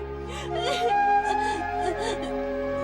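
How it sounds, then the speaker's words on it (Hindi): A small child cries in a Telugu action film dubbed into Hindi, with a wavering whimpering wail that rises and falls over a steady musical drone. "वहाँ बच्चे के रोने की आवाज आ रही है।"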